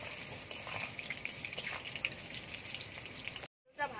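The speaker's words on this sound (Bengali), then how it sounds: "আলুটা ভালো করে ভেজে নেব।" Potatoes fry in hot oil with a soft, steady crackling sizzle that runs unbroken, then cuts out abruptly near the end before a brief return.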